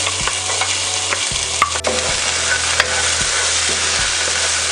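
Chopped onion hitting garlic already frying light brown in oil in a pan, giving a loud, steady sizzle broken by regular scraping stir strokes, with no voices.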